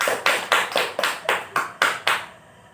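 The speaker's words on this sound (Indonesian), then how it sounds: "Tepuk tangan dulu." Hands clap eight times in a steady, even rhythm in a classroom, each clap sharp and close, followed by a brief quiet tail.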